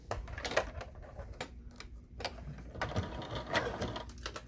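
Sewing machine stitching a fabric fanny pack, quiet close bursts of rapid needle ticking in short runs with brief pauses between them.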